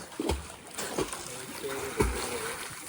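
Water splashes and sloshes in a village swimming pool as people step in, several soft splashes close by under ongoing chatter from the group.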